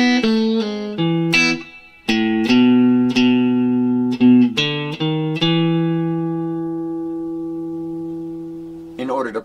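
Clean electric guitar plays the opening blues riff of a song, plucked notes and chords, the final chord left ringing and slowly decaying before a faint scrape.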